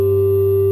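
Korg Electribe MX-1 plays a loud, steady sine wave synth tone with the resonance up, giving a sustained buzzy hum that holds for under a second before cutting off.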